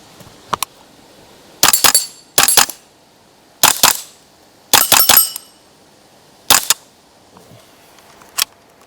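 Shots from a Ruger 10/22 rimfire rifle fired outdoors: about seven sharp, loud cracks, some in quick pairs and others spaced a second or more apart, with no talking.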